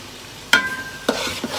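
Biryani masala with dried chili and chili powder, cooked down with a splash of water, stirred in a hot pan: a sharp scrape of the spoon, then a second scrape and soft clatter over a continuous frying sizzle.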